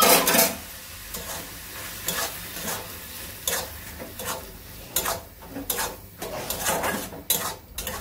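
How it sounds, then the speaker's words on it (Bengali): Ground sesame and poppy seed paste frying in a pan, with steady soft sizzling under repeated scraping and clinking stirring strokes of a utensil against the pan, close and moderately loud throughout. "এটা ভালো করে একদম ভাজা ভাজা করতে হবে।"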